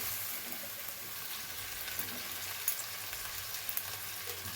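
Mutton frying in a pan while being stirred, giving a continuous low sizzle with occasional soft scrapes, quiet and steady, no voices.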